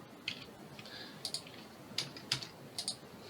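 Keys on a computer keyboard tapped in short, quiet clusters of clicks while search text is typed, faint and close with soft background noise.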